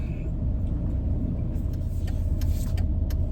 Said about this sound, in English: stuck in some stupid traffic right now, man